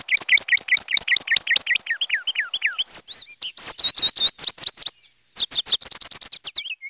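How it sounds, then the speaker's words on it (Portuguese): Birds sing close by in rapid trilling bursts of bright chirps and whistled notes, repeating in quick rhythmic phrases with a brief pause near the end. "música só mesmo dos pássaros"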